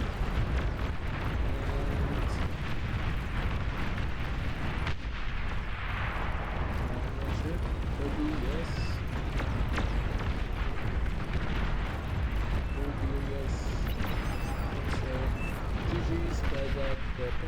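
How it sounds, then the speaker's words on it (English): Bombing-run explosions in the real-time strategy game Beyond All Reason: a dense, continuous wall of booming blasts and heavy artillery-like rumble with scattered pops and crackles, loud and unbroken for the whole stretch. "We have the last replay, the last bombing run."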